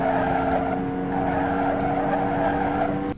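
Tires screech almost continuously in the arcade racing game Hard Drivin, a loud, sustained squeal over a droning engine tone that cuts off abruptly at the end, with no talking.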